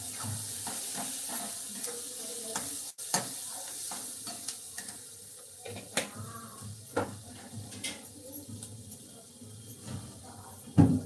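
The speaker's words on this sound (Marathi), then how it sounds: "हे सर्व मिक्स करून घेऊया आपण तेलामध्ये फ्राय करून घ्यायचं आहे" Turmeric and chili powder fry in oil for egg bhurji, giving a continuous hissing sizzle with scattered spoon scrapes and taps against the pan, heard up close.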